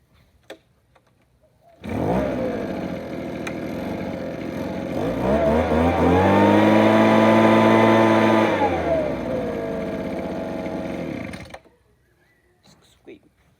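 Makita RBL 250 leaf blower cold started, roaring to life and rising to a steady loud whine with a revving swell midway, then cutting off after about ten seconds, with faint clicks around it.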